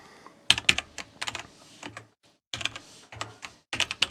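Quick bursts of clicky computer keyboard keystrokes while Python code is typed, close and crisp, in short uneven runs with brief pauses and no talking.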